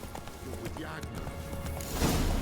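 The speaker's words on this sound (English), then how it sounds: "Whoa there, Roach." Roach, a horse in The Witcher 3, with hooves clip-clopping at a run under a man's spoken line, brief and moderately close.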